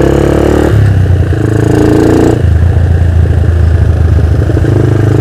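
A Yamaha LC motorcycle bored out to 177cc, with a tuned TZM carburettor, revs hard up close, a loud, raspy two-stroke buzz that jumps in pitch and settles back, no talking.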